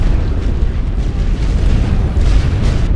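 Artillery shells exploding across a World War One Western Front battlefield in a strategy game, a continuous loud rumble of overlapping booms and low thuds with no clear gaps, dense and heavy throughout.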